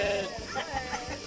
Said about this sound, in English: all the sheep started ba ba ba.